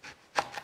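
A knife cutting through a leek on a board, three close, quick chopping strokes with the middle one loudest.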